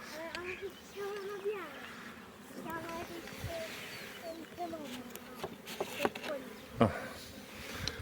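Many bees in a crowded, slightly agitated hive body hum in a continuous, dense buzz, with occasional faint knocks and movements close by.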